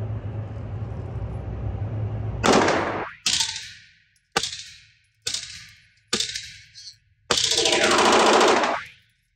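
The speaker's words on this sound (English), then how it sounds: "Get a couple of burst shots and then let it fly." Gunfire at a shooting range rings out in several bursts, one short and sharp after another with echoing tails and a final longer burst, loud and close over a low background hum, with no talk.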